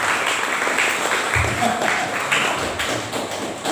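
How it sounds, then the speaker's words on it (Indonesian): Loud, sustained applause from an audience at the opening of a church youth week in Sekadau, West Kalimantan, a thick continuous clatter of clapping hands. "Tepuk tangan untuk Pendeta Rianto"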